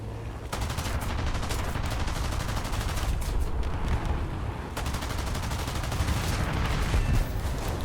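Rapid cannon fire from a Bkan 1C artillery piece in War Thunder, a dense, continuous stream of loud booming shots that carries on almost without pause for several seconds.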